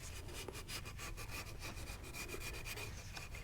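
Rapid back-and-forth scraping strokes strip old gasket material from a Dodge Ram 6.7L Cummins thermostat housing pipe, rhythmic, close and steady, with no talking.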